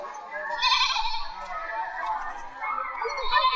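A goat bleats in a wavering, nasal cry that carries through most of the moment, fairly close and clear, with a voice mixed in around it.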